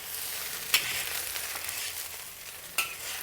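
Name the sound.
prawns frying and being stirred in a pan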